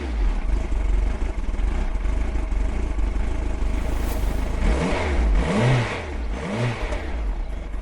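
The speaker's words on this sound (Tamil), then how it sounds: "ஆமா, பைக் சத்தம் எங்க இருந்து கேக்குது?" A motorbike engine idles with a steady drone, then is revved up twice in quick rising surges near the end, close and loud.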